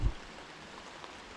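Rain falls on a pond during bass fishing, a soft steady patter and hiss, faint and even after a brief low thump at the start.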